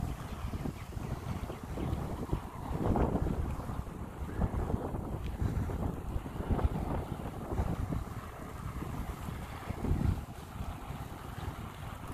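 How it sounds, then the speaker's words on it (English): Steady wind buffets the microphone at a campground in Jonathan Dickinson State Park, with low rumbling gusts that swell and ease throughout, loud and close, with no voices heard. "A little windy today, so hoping you can hear me."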